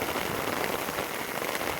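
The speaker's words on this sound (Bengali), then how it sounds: "অনেক অনেক বৃষ্টি হইতেছে, অনেক অনেক।" Heavy rain pours down outdoors during net fishing, a dense, even hiss of drops drumming close by without pause or change in strength.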